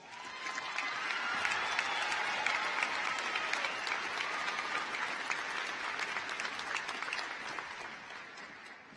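Audience applause fills a high school graduation ceremony at Shadle Park High School in 2016, a steady, dense clapping from a large crowd that holds at an even level for the whole stretch with no voices on top.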